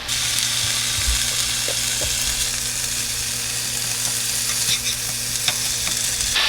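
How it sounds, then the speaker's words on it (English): Prosciutto crisping over medium-low heat in a dry non-stick pan, a loud, close, continuous sizzle broken by occasional scrapes and taps from stirring, with no voices. "So we crisp up the prosciutto over about a medium-low heat"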